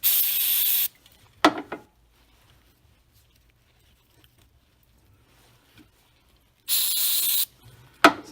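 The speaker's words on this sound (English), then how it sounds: "We'll just hose it off anyway with some carb cleaner." Aerosol carb cleaner hisses onto a part of a 2012-2016 Chevrolet Impala 3.6 LFX engine in two short, loud bursts separated by several seconds of near silence, with faint handling noises between.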